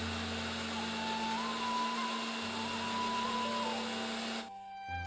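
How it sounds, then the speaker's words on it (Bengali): A mixer grinder whirs loudly as it grinds onion, tomato, ginger and garlic together, a steady motor drone with a slight pitch wobble that cuts off abruptly near the end. "পেঁয়াজ, টমেটো, আদা, রসুন সব একসাথে বেটে নেবো"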